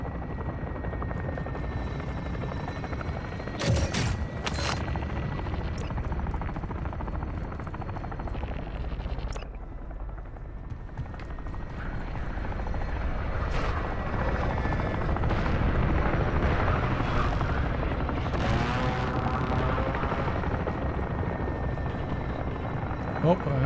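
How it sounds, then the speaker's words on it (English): Helicopter rotor thump in the video game Call of Duty: Warzone, a steady loud drone running through the whole stretch while players talk over it. "Is that the chopper again?"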